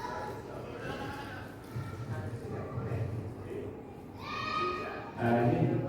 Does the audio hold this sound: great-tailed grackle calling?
no